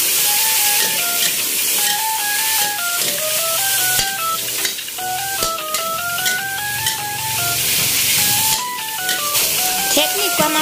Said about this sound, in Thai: ใส่พระเอกของเรานะคะมะเขือเปราะที่เราหั่นไว้ลงไปได้เลยค่ะแล้วผัดต่อนะคะ